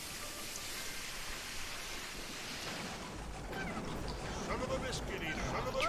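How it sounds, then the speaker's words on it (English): Rain falls in the pixel-art pirate video game Pixel Piracy, a steady hiss of rainfall that swells slightly partway through and carries on without pause. "It's raining."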